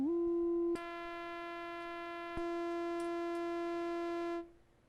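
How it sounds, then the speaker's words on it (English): A steady synthesizer oscillator sine wave from a Buchla-format module holds at one pitch, its timbre shifting brighter partway through, then cuts off abruptly; no voices. "Okay, sine wave sounds good."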